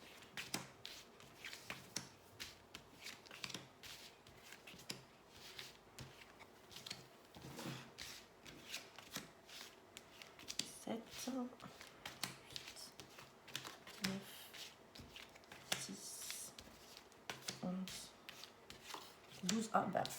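Tarot cards being drawn and shuffled from a deck, a soft run of rubbing, sliding and flicking card sounds with scattered sharper snaps, close and quiet, alone without talk.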